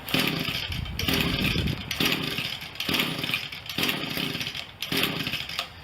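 Small Echo two-stroke engine with the choke on, sputtering and roaring in loud, close bursts about a second apart, each surge fading briefly before the next, with no talking.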